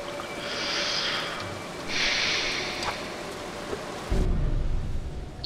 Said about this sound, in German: Jetzt kommt hier natürlich der Blitz.